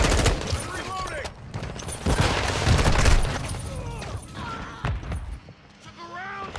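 Rapid video-game gunfire crackles in dense bursts throughout, loud and near, with a voice talking over the shooting.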